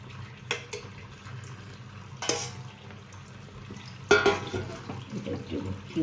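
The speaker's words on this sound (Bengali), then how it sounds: "এই যে ভেজে রাখা কপিগুলো এবার এর মধ্যে দিয়ে দেবো, ফুলকপিগুলো দিয়ে দেবো।" Fried cauliflower tipped into a pan of sizzling masala for a cauliflower roast, with a few sharp clatters and scraping stirs over a low steady fry.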